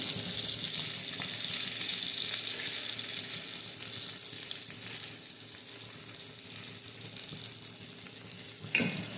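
Tomato, ivy gourd and green beans frying in a pan on a home stove, a continuous close sizzle with soft stirring scrapes throughout and one sharp knock near the end.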